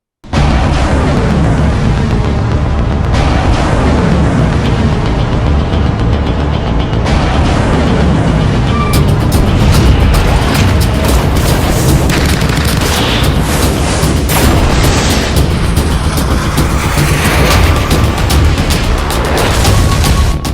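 A BrahMos cruise missile is launched over the Arabian Sea, producing a loud, sustained roaring boom with dense rumbling low end that fills the scene continuously, with sharp crackling bursts layered on top and no voices.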